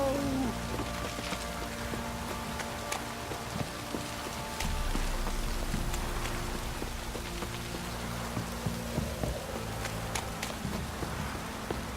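Steady rain falls in The Witcher 3: Wild Hunt, a constant patter with scattered sharper drops that run throughout, under low background tones and without speech.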